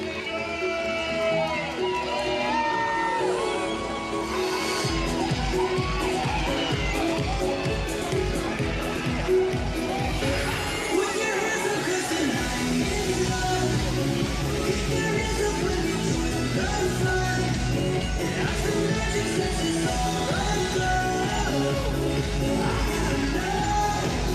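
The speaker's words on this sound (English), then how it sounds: "So here is a parade going by, and hopefully you can hear the sound" A dense crowd at a Disney California Adventure parade makes a continuous wash of cheering, shouting and chatter, with parade music woven through it and nearby voices talking over the noise.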